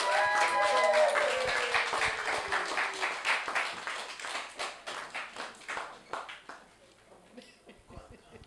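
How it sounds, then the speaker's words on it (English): Audience applause for a speaker being welcomed to the stage at a Windrush event with retired Caribbean nurses, starting as a full clatter of hands and thinning into scattered individual claps before fading out; a voice murmurs over it. "A round of applause."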